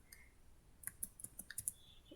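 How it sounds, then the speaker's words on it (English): Computer keyboard keys click in a quick irregular run of light, crisp taps, close but quiet, with no talk over them. "so I am typing in capital letter only"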